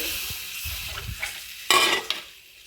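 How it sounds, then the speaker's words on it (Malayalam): Soaked tamarind water goes into a pan of kilimeen (threadfin bream) fish curry, with a few scraping stirs followed by a sudden burst of hissing sizzle that fades over a second. "പുളി വെള്ളത്തിലിട്ട് വെച്ചിട്ടുണ്ടായിരുന്നു, അതങ്ങോട്ട് ഒഴിച്ചു"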